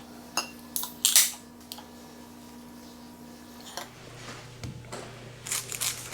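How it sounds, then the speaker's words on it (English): A knife roughly chopping an onion into big pieces on a board, a few scattered crisp cuts and taps, close but fairly soft, with quiet background hum. "So we'll get this onion chopped up, just a real rough chop."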